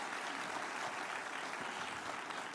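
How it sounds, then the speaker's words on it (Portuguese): Steady congregational applause during a Baptist church prayer meeting, an even, continuous patter of many hands clapping at moderate distance. "Dê para Jesus uma forte salva de palmas"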